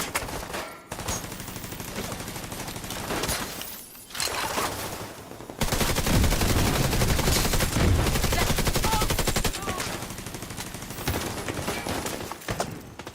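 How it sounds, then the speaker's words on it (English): Gunfire in The Division 2, bursts of rapid automatic shots crackling loudly in volleys with brief pauses, a voice speaking faintly underneath. "Who's shooting at me?"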